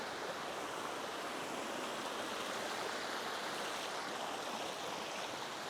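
A river stream flows in a steady broadband rush of water, continuous and fairly loud, with no voices over it.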